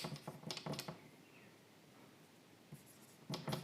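Chalk or marker writing on a classroom board, quick scratchy strokes in two bursts separated by a quiet pause, close and moderately loud.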